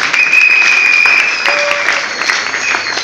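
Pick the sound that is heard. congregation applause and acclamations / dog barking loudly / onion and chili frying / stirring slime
congregation applause and acclamations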